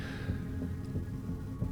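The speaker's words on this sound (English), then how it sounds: "each heartbeat pounding like a drum" A heartbeat sound effect pounds with a low, steady throb, each beat regular under a constant hum.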